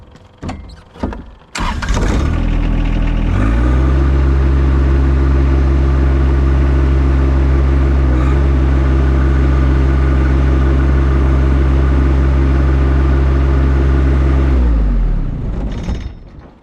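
Frontier 54-inch snowblower engine roaring loud and steady close by for about twelve seconds after a few sharp knocks, then winding down as it shuts off.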